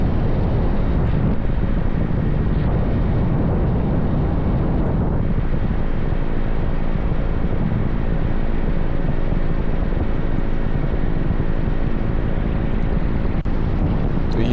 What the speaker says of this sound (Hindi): प्रयागराज में हेलीकॉप्टर से पुष्प वर्षा कर श्रद्धालुओं का स्वागत किया गया।